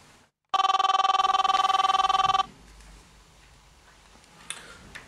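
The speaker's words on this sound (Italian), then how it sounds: "Con sto cazzo di cellulare che suona." A mobile phone rings loudly with a steady electronic warble for about two seconds, then stops, leaving faint room noise and a soft click.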